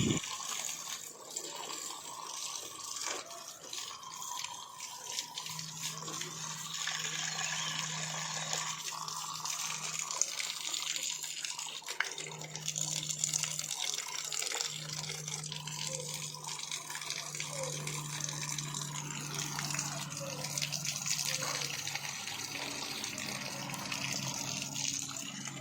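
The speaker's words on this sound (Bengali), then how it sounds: "চলো গাছে আগে জলটাই দিয়ে নিই" Water runs steadily onto sun-dried plants in an outdoor setting, a soft, continuous splashing and trickling stream that stays faint and close, with no talk.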